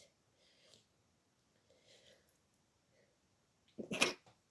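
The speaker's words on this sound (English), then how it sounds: "Sneeze on a Wednesday, sneeze for a letter." A single sharp sneeze bursts out near the end, loud and close, after a few seconds of faint, quiet murmuring.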